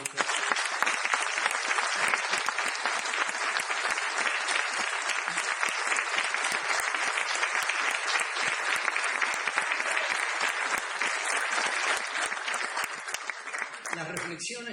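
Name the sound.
audience applause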